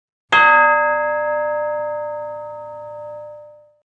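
A single struck metal school bell: one sharp clang with a bright, ringing tone that rings out loud and clear, then slowly decays over about three seconds, heard alone.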